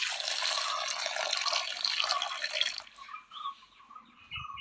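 Water pours steadily into a curry pot holding chopped koorka, green banana, tomato and green chilli, a broad splashing rush for almost three seconds before it cuts off, leaving soft drips and small clinks.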